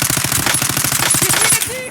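Rapid automatic gunfire from a video game rattles in a fast, continuous burst, loud and close, with brief tonal game effects near the end as it cuts off.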